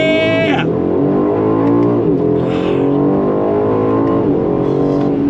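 An Aston Martin DB12 Volante convertible pulls away in first gear from a slow roll, its engine note climbing steadily in pitch as it accelerates hard, loud and close throughout, with a brief excited voice over the rising drone.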